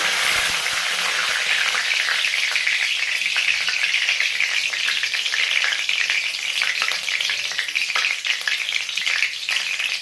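Chicken chap frying in a pan, a loud continuous sizzle with crackling and stirring scrapes, steady and close throughout.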